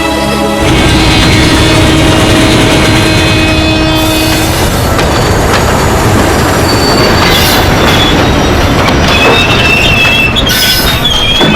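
A train runs loudly close by, its wheels grinding and squealing on the rails in a continuous rush of noise with rattling carriages.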